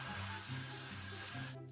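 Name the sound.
freeze hairspray being sprayed on curly hair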